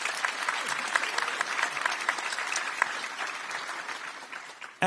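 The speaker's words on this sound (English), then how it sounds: "Can we give a round of applause?" Audience applause at a city State of the City 2025 event, steady dense clapping from a large crowd lasting several seconds, fairly distant and even, with no talking over it.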